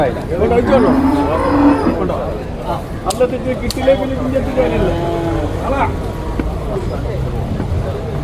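At a busy livestock market, a buffalo calf moos loudly and close by, with further lowing after it, over a crowd's babble and someone talking.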